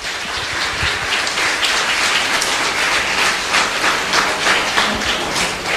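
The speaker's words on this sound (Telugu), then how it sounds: "ఆదిత్యకి ముందుగా మనం చప్పట్లు కొట్టి అభినందనలు తెలియజేద్దాం." An audience clapping at a university celebration event, a dense, loud, sustained applause filling the space evenly without pause.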